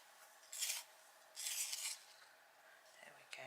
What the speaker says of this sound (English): Let's give it a sharpen.